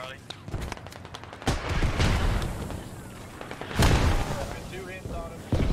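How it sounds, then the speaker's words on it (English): Mortar shells blasting in the military shooter Squad, two heavy booms landing amid ongoing gunfire and battlefield noise, with players talking over the chaos. "Or we'll just die to these mortars."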